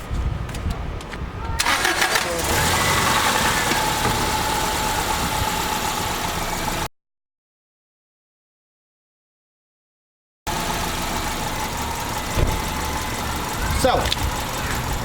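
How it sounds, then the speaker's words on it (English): A Subaru Outback engine cranks and catches, then settles into a steady idle close by; the sound cuts out to silence for a few seconds before the idle resumes. "let's start the car and see if she has everything working."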